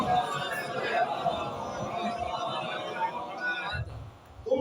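A congregation at a majlis for the Chehlum of Imam Husain chants salawat together in response, a dense, sustained crowd of voices that stays loud and close for several seconds before dropping away near the end.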